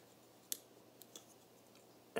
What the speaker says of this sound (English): You just take your X-Acto knife and just kind of cut that out there.